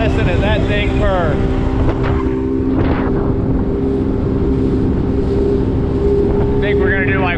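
Steady motorboat engine drone with strong wind buffeting the microphone, and voices talking briefly over the constant hum.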